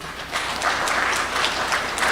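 Citizens gathered at a Kenyan anti-corruption summit clap for themselves in a large hall, with loud, sustained, dense applause from a big crowd.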